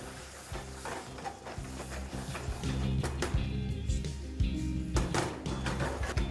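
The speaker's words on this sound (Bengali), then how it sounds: "ব্যাস এবার ফ্লেমটাকে হাই করে এটাকে ভালো করে একবার মিশিয়ে নিন।" A spoon stirs potato and pointed gourd gravy in a pan over a high flame. It scrapes and taps against the metal in a close, uneven rhythm over a low, steady sizzle.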